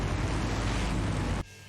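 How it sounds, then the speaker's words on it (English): A huge explosion in Full Throttle Remastered roars as a loud, sustained, full-spectrum rumble for well over a second, then cuts off abruptly to a quieter hum. "Now that's an explosion, ladies and gentlemen."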